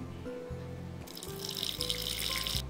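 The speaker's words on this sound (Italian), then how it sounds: "Vado ad inserire all'interno metà acqua" About 65 g of water is poured into a stand mixer bowl for light bread dough, a close rushing splash lasting under two seconds over a low steady hum.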